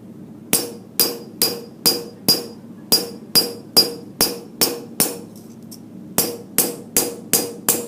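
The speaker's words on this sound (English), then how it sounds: "I could kind of repeat this woven burlap pattern with this hammer if I wanted to." A hammer strikes metal for embossing a woven burlap-style texture, ringing out in a fast, even series of sharp metallic blows with brief pauses between runs, close and loud with no talking.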